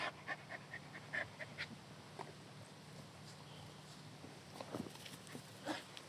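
A dog panting softly and moving about in a backyard, with light footsteps and scuffling at close range, quiet and intermittent.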